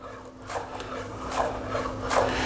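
A knife chops green onions on a cutting board, a few soft rasping strokes working down the stalks, quiet and close with no talking.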